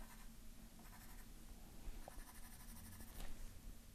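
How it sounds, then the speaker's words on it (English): Soft 6B graphite pencil shading hard on drawing paper, giving a continuous close scratchy rasp with rhythmic back-and-forth strokes, quiet and with no voices. "I'm really hitting the pencil really hard."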